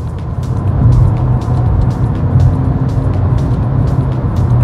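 An MG ZS Hybrid+ (197 hp) pulls away on the road, its drive note a steady low hum that swells gently and holds loud and close throughout, with road noise and no voices.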